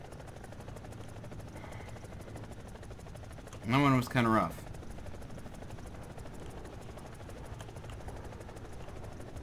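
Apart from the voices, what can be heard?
EC-665 Tiger helicopter rotor in video game War Thunder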